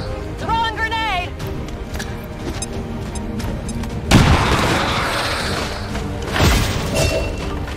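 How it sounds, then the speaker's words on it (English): A grenade explodes in the video game XCOM 2 with a loud boom and a crackling burst of debris, followed by a second impact, over game music and a soldier's voice line. "Throwing grenade!"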